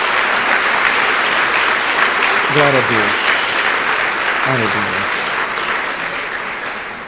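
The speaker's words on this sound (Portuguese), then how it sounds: "Dê uma salva de palmas ao Senhor Jesus." A church congregation claps loudly and continuously in praise, while a voice twice calls out short exclamations over the sustained applause.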